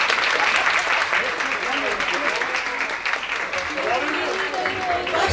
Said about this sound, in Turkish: Güzel bir alkış.